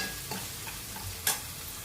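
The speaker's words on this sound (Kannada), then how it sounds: "ಕ್ಯಾಪ್ಸಿಕಮ್ನ ಚೆನ್ನಾಗಿ ಫ್ರೈ ಮಾಡ್ಕೊಳ್ಳೋಣ." Capsicum fries in oil for fried rice, a soft steady sizzle broken by a few scraping stirs, one sharper clack near the end, no voices.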